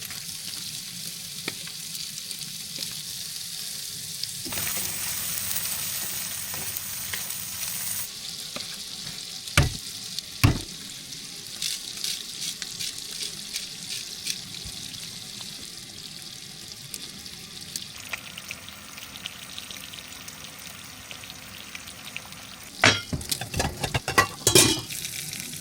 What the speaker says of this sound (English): I got the rest of my steak from last night, so I'm gonna heat that up too.